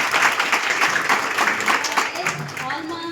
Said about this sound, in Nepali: प्रशंसाको लागि प्लिज एक जोरदार ताली।